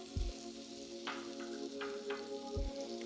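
Butter melts in a skillet with a soft, steady sizzle and fine crackling, quiet and close, with a few brief scraping stirs and low knocks and no voices.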